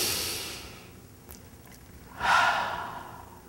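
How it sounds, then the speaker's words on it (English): A single deep breath during a healing meditation: a long, airy inhale fading out, a brief pause, then a louder, rushing exhale close to the listener, with no talk. "just take a deep breath."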